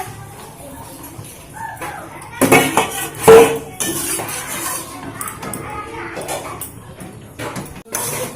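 Shrimp stirred in ghee in a metal pan, heard as loud clattering scrapes and clinks of a utensil against the pan, bursting out in the middle, over a low background with a voice partly present.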